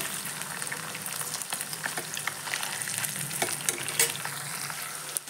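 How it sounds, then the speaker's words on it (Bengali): Steady close sizzling and crackling of chicken pieces frying in hot oil, with occasional scraping and stirring clatter throughout as the pieces are turned. "এবার একটা সাইড খুলে উল্টিয়ে পাল্টিয়ে আরেকটা সাইড ভালো করে ভেজে নিতে হবে"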